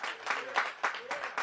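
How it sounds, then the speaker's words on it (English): A crowd applauds a council member at an outdoor community center ribbon cutting, giving brief, moderately loud clapping that swells and dips over a second and a half. "Give him a big round of applause."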